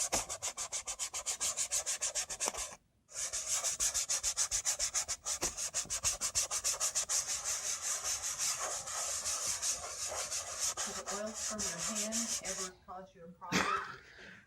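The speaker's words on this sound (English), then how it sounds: "what I'm going to do is grind that in with the heel of my hand to get it into the" The heel of a hand grinds pastel into the tooth of a board, a fast, rhythmic rasping scrub that runs close and continuous with two brief breaks and a few soft knocks near the end.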